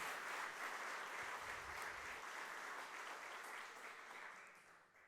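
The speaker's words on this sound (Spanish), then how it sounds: "Si le va a aplaudir al Señor en agradecimiento" A church congregation applauding in thanks, a dense steady wash of many hands clapping that holds evenly, then tapers and fades toward the end.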